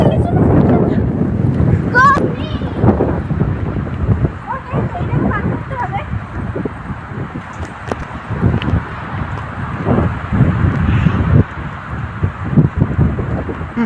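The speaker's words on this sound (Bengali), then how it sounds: "এই সমুদ্র সৈকত আর মধ্যে এত হাওয়া দিচ্ছে" Strong wind buffets the microphone in a constant roar on a sea beach at Dublagadi, with surf in the background and people talking over it.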